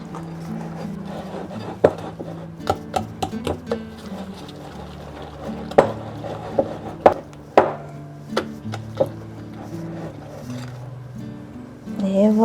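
Chestnut cream is stirred into marble cake batter in a bowl, with a run of irregular knocks and scrapes from the utensil over soft background music.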